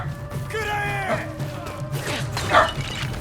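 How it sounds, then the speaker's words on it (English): A pet dog barks and whines at its owner indoors, giving a few yips and drawn-out whimpering barks over steady background game sound. "my dog is barking at me for some reason"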